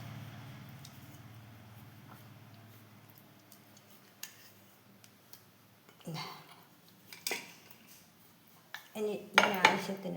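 Mackerel fry masala is mixed with salt in a bowl, making faint ticks and light scrapes at first and then louder, close metallic clinks of a spoon against the bowl toward the end.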